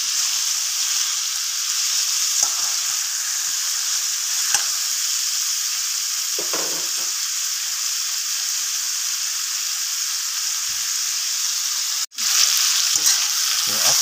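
Ginger and spices frying in oil for sinigang with file fish, a loud continuous sizzle close up, with a few stirring scrapes and a brief break near the end.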